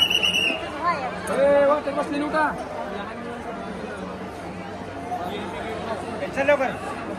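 Crowd murmur at Tuljapur temple, with several nearby voices rising and falling over a lower background babble of many people.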